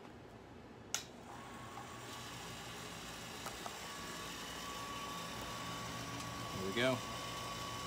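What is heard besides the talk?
pump running to whirlpool wort in all-grain brewing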